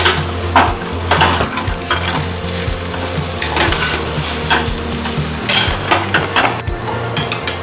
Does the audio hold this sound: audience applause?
no